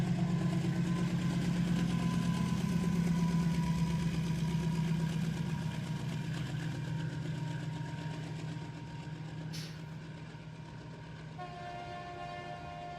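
GE GEVO diesel locomotive prime mover droning steadily with a low rumbling hum, gradually fading as the train moves off, a faint tonal whine emerging near the end.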